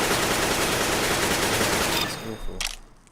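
In CS:GO a rifle fires on full auto, a loud, rapid, continuous burst lasting about two seconds before it stops and fades.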